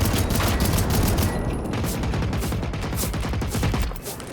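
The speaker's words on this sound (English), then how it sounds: "the other one's shooting rockets at me" Enemy robots firing rockets in Generation Zero set off a dense, loud barrage of rapid blasts and gunfire that rolls on steadily with no voices.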